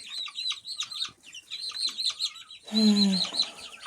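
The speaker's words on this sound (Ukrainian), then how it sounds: "Курчатка тут різні у нас породи. Сидять тут разом." Chicks of mixed breeds, including silver and white-gold Wyandottes, chirp in a steady high-pitched chorus of rapid peeps close by, with a brief lower clucking burst near the end.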